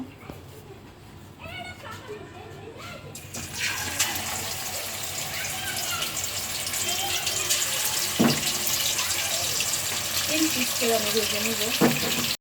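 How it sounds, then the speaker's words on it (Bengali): Shashlik skewers frying in hot oil for an iftar spread of fried snacks, a steady broad sizzle that grows louder after a few seconds and runs continuously, with occasional utensil clinks and speech underneath. "এখন সাসলিকগুলো আমি ভেজে নিব।"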